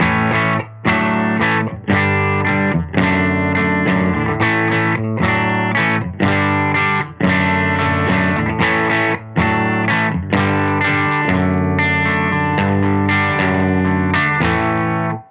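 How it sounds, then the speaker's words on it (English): Electric guitar through a Science Amps Mother preamp pedal, channel A, on the edge of breakup, strummed chords ringing with slight grit and steady rhythm, loud and close, no voices. "So that's that edge of breakup sound"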